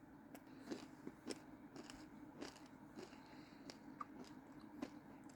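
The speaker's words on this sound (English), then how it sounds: "the crunch you're hearing is rice" Crispy rice crunched while eating: close, sharp bites and chewing crackles come at an irregular rhythm, about ten distinct crunches with no talk.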